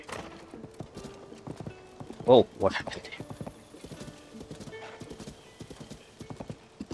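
In Zelda: Tears of the Kingdom, a horse's hooves clip-clop in quick, uneven steps and it gives a sharp whinny midway, with a player talking over the game sounds.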